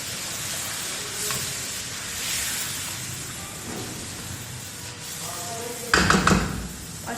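Browned chicken sizzles and fizzes steadily in a pan with scraping stirs, then tomato paste lands with a sharp burst of louder spitting and bubbling.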